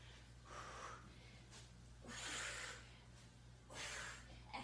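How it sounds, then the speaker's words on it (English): Breathing during a strength and cardio workout exercise: three airy, fairly quiet breaths come at roughly even intervals over a low steady hum, with no talking. "you hear me breathing, it's good not to hold your breath"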